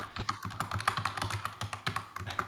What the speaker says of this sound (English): I hear a keyboard clacking.